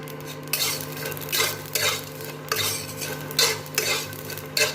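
Poppy seeds frying in a pan with peanuts and garlic for a Hyderabadi bagara baingan dish, stirred with a utensil scraping and clinking against the metal in repeated bursts over a steady faint sizzle, close and moderately loud.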